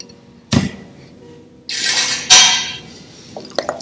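A horseradish vinaigrette is stirred in a small bowl, giving a few sharp clinks of utensil against the dish and a couple of longer scraping, rattling sweeps, close and bright, with quiet gaps between them.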